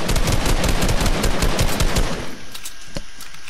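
Rapid automatic gunfire in Fortnite shreds a tree, a dense, loud rattle of shots for about two seconds before cutting off, with one more sharp single shot after a short quieter pause.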